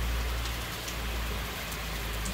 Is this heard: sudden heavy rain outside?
yes